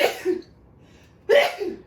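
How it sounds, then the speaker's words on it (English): Two sharp sneezes come close together in a home kitchen while chicken is being fried in oil, each a loud, abrupt burst separated by about a second of near silence. "I was hoping you would wait so I could cut out the sneezes."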